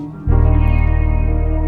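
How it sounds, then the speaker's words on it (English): Doctor Strange's theme music in its original version, a sustained, heavily effected synth-like tone with deep bass and echo that swells in abruptly and holds loud and steady. "That's how Doctor Strange's theme sounds originally,"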